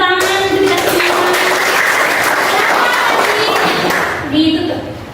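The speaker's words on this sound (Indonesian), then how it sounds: "Tepuk tangan untuk kita semua." A classroom group applauds together at the close of a lesson, a dense sustained wash of clapping hands that holds steady for about four seconds before thinning out, with voices mixed into the crowd noise.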